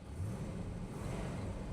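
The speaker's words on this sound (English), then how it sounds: "383 original engine." A 1969 Plymouth Road Runner with its original 383 V8 runs at a steady idle, a low continuous rumble with an even, smooth tone and no talking.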